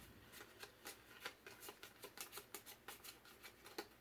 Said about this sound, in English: we're going to do some random shuffling here